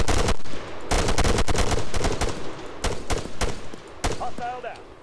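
Gunfire from ARMA 3 cracks loudly in rapid, irregular bursts of sharp shots, with brief pauses between volleys and a faint voice near the end.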